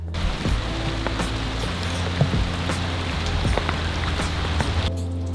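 Steady rain falls on surfaces during a van build outdoors, a dense, even patter with scattered louder drops throughout.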